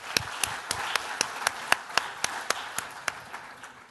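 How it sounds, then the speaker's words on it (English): A conference audience at a tech talk gives a round of applause, heard as a sparse run of distinct, evenly spaced sharp claps, roughly a dozen, moderately loud with little else underneath. "Round of applause"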